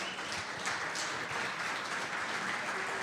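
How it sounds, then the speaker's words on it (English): Crowd applause at a live show with a barbershop quartet, a sustained, fairly dense round of clapping with scattered cheers, continuous for a few seconds. "How about another big round of applause?"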